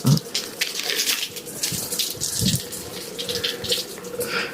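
Water running from a leaking kitchen pipe or fitting before waterproof tape is applied, a continuous splashing trickle with small irregular surges, close by and steady, without speech.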